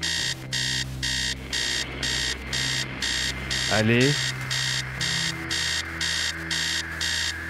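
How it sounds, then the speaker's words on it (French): An alarm clock rings in the video game Stories Untold, a loud, steady train of rapid electronic beeps in regular pulses that continues throughout, with a voice briefly speaking over it midway. "Arrêtez le réveil. La sonnerie s'arrête."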